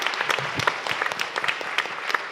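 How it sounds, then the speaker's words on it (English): Audience applause for summit panelists fills a conference hall, steady dense clapping with no voices over it. "so for a round of applause to our panelists"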